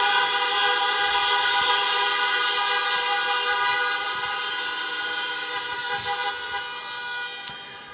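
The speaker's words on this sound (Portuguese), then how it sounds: "Deu uma buzinada aí" A vehicle horn blaring one long, steady, sustained tone that holds for several seconds and slowly fades, with a brief sharp click near the end.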